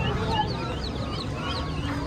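Tiny ducklings in a cage give rapid, high peeping calls that repeat throughout, close by over a steady background hum.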